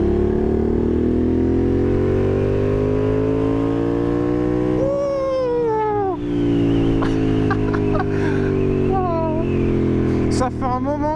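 Honda Hornet 750 motorcycle being ridden, its engine droning steadily and loud with rising revs, a couple of quick gear changes and a falling pitch near the middle, under continuous wind rush.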